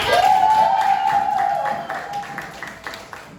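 Classroom students clap their hands together, a short burst of scattered claps that thins out and fades, with a whistling or squealing tone sliding through the first second.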